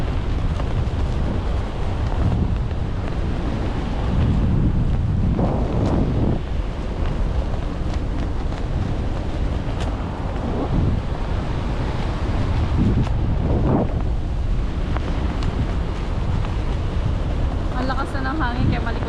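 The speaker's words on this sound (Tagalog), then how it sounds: "Ang lakas na ng hangin kaya malikot yung atin." Strong wind buffets the microphone continuously with a loud roar during parasailing, and voices talk faintly beneath it.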